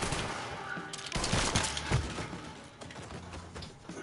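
Gunfire in the video game Mafia 3: a dense, noisy burst of rapid shots and echoing impacts, loudest early and slowly fading, with no clear speech.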